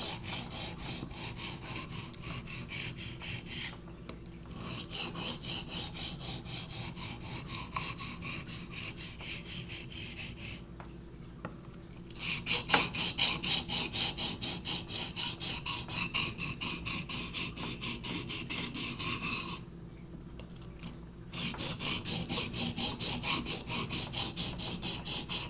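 A Condor Bushlore knife blade is ground down to a Scandi profile, giving a steady, close rasping grind that stops briefly twice and then resumes at a similar level, with no talking.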